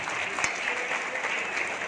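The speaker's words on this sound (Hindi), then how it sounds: "जोरदार तालियों से मैडम का स्वागत।" Applause from an audience welcoming a guest at an official event fills the short stretch, with dense, steady clapping at moderate loudness and a brief sharp clap near the start.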